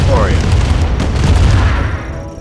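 Ion cannon strike in Command & Conquer Remastered, a loud, deep booming blast with a crackling rumble that sustains briefly before tapering off.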